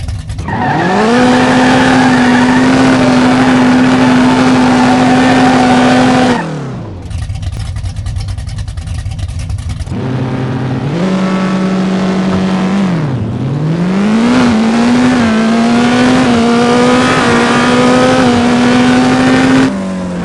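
Race car engine roaring through a drag run in the No Limit Drag Racing 2.0 video game, loud and steady at high revs, cutting out briefly mid-run, then climbing again through a dip and shift.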